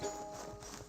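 Horse hooves clopping in Red Dead Redemption 2, a brief run of soft hoofbeats close by under faint game ambience, with a thin tonal hum running through.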